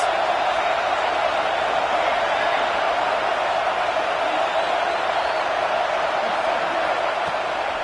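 A football stadium crowd roars on third down, a loud, steady wash of cheering and noise from a large gathering sustained throughout, with a commentator's voice over it.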